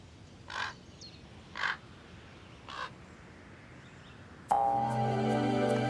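Ravens calling at the nest while feeding a begging youngster: three evenly spaced harsh croaks, moderately distant over quiet background, then a louder, harsher sustained call rising up close at the end.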